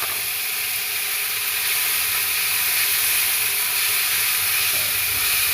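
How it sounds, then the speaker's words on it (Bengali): Tomato paste hitting a hot pan with cumin-tempered oil, giving a loud, continuous hissing sizzle that holds steady throughout, close by and with no voices. "এখন এটা দিয়ে দেব কিছু টমেটোর পেস্ট।"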